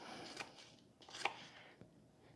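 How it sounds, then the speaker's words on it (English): A kitchen knife chops an onion on a cutting board, a few faint, sparse cuts with quiet gaps between them. "Now I'm going to cut this onion up a little more, and I want to chop it"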